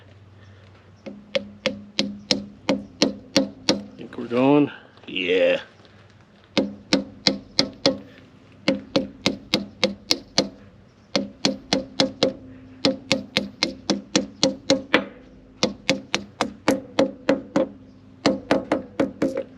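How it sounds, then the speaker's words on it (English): Repeated sharp hammer strikes driving a part into place on a bulldozer, in quick regular bursts, close and loud, with a brief pause midway where a short spoken exchange occurs. "So I just need to get it started with the hammer first."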